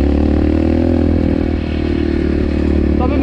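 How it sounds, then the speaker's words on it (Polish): A Yamaha TTR 125L enduro motorcycle engine running loud and close, a dense steady roar with a slight dip partway through and no talking. "wszyscy się drą, że za głośno te motory chodzą"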